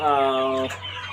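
Chickens clucking near homemade feed traps on a farm, a loud, close, drawn-out call followed by softer clucks.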